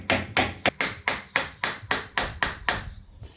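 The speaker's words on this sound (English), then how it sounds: "And then tap gently on your lower wishbone, and then we can tap on the CV." Hammer striking the lower wishbone of a Ford Figo during front bearing replacement, about ten sharp, evenly spaced metallic taps with a ringing tone, close and fairly loud, no voices.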